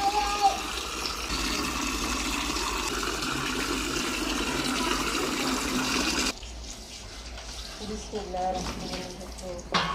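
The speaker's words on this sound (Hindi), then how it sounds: "अब हम इसे अच्छी तरह धो लेंगे" Fresh bamboo shoots are rinsed under running water, with a steady loud gush from a tap that suddenly cuts to quieter splashing and handling sounds, close up.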